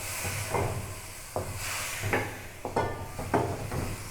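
Chicken feet frying in a pan with spices after a splash of water, a steady sizzle and hiss with several sharp bursts of spitting and stirring clatter, close and moderately loud.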